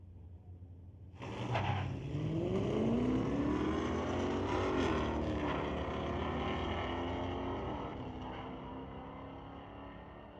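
A 1964 Pontiac GTO and a 2002 Infiniti launch side by side at a street-legal drag strip, engines roaring up through the gears, loud and sustained before slowly fading as they pull away down the track.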